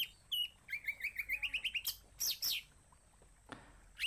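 A young, still-speckled white-rumped shama about two or three months old gives a run of rapid, bright chirps and tweets, close and clear, with short pauses between bursts and a few sharper calls toward the end.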